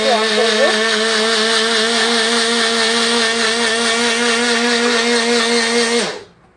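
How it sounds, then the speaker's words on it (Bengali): A kitchen blender mixing a sweet summer drink is switched on in pulse mode and whines loudly and evenly for about six seconds, then cuts off abruptly. "পালস মোডে একটুখানি অন করবো"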